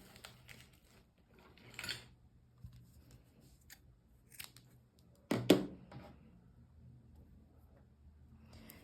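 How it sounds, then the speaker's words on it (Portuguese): Scissors snip a strand of t-shirt yarn while finishing a crochet bag, with scattered soft handling clicks in a quiet room and one sharper, louder cut near the end. "E aí, eu já posso cortar o meu fio."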